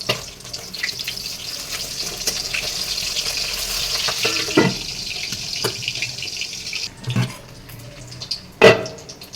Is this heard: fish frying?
yes